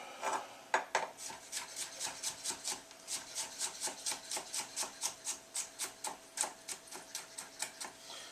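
A knife cuts fennel on a board in quick, even chops, about three per second, crisp and close, with no voices.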